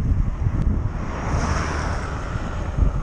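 Wind buffeting a pedal boat on open water, a steady rushing roar with gusty swells and microphone wind noise, no voices.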